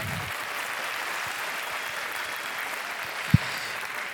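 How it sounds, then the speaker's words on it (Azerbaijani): An audience applauds at the opening of a meyxana gathering, a steady, fairly faint wash of clapping that carries on throughout, with one sharp knock near the end. "Ülvini alqışlayaq, gözəl alqışlarla."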